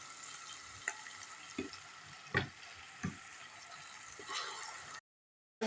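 Onion paste fries in a pan for a lobia masala curry, a faint steady sizzle with a few soft pops and a stir now and then, no talking, cutting to silence near the end.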